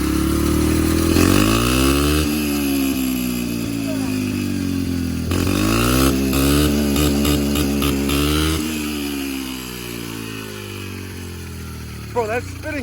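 A dirt bike fitted with an oversized rear sprocket revs hard and close, its engine pitch climbing and falling in repeated surges as the rear wheel spins, with excited voices talking over the roar.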